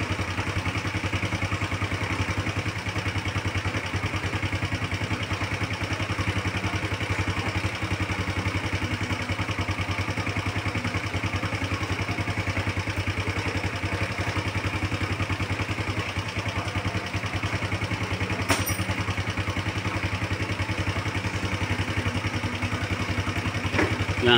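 Nine-year-old Suzuki Skydrive 125 carburetor-type scooter engine idling nearby, a steady, even mechanical drone with light rattling clatter that holds unchanged for about twenty-five seconds.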